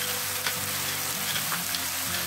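Onions and chili sizzling and frying in a pan for Filipino chicken curry, a constant close crackle with a few faint stirring scrapes and no talking.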